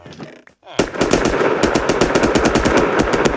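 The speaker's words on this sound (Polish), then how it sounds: "Ale sąsiad we mnie strzela." Rapid automatic gunfire in a video game: after a brief pause, a dense, loud burst of rattling shots runs on continuously at close range, with no words spoken.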